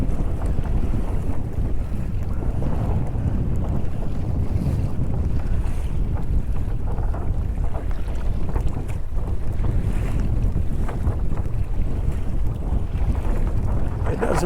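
Loud, blustery wind buffets the microphone while choppy water slaps and splashes against the hull of a Hobie Outback sailing kayak, continuous and rough throughout.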